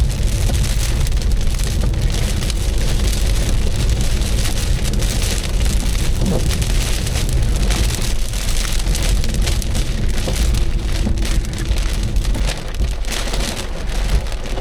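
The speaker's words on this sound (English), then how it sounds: "The wind pushed that rain across the road." Heavy rainstorm on a road at the eastern edge of Ocala, Florida, heard from inside a car stopped at a light: dense, steady roar of rain drumming on the vehicle, loud and continuous throughout with no talk.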